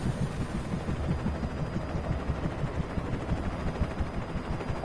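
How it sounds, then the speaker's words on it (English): A military helicopter flies in the Alan Wake video game, giving a loud continuous low rotor rumble with a fast, rough throbbing pulse that holds steady, with no speech over it. "That's a helicopter on air."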